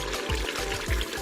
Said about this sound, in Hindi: गाइस थोड़ा सा इसमें पानी शामिल करेंगे।